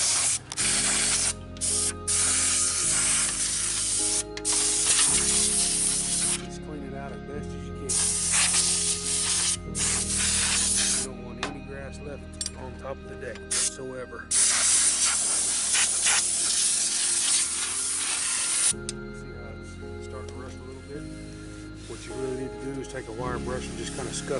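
Black Rust-Oleum spray paint hisses from an aerosol can onto a lawn mower deck in repeated loud bursts separated by short pauses, with someone talking over parts of it.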